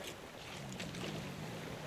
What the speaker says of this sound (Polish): Ja słyszę tylko morze.